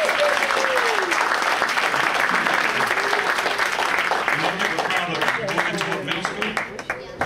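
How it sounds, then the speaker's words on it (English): A church congregation applauds steadily and loudly for several seconds, dense clapping that thins out toward the end, with a voice speaking over it. "give her a hand clap."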